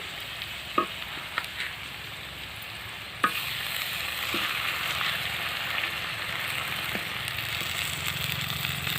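Garlic paste frying in a pan with stuffed ivy gourd masala curry, a soft continuous sizzle with a few sharp clicks early on, then a louder, fuller frying hiss that holds steady to the end.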